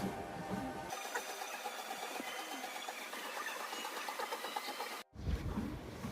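A home treadmill runs under someone walking at 6 km/h, a steady mechanical whir with rhythmic tapping of footfalls and belt, close and even, with a brief cut near the end.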